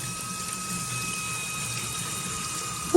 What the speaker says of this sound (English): just a nice warm water and just rinse from the inside out